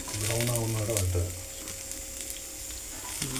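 Sliced onions and slit green chillies sautéing in a pan for a beef roast, a soft continuous sizzle heard under a brief stretch of talk at the start and again at the end.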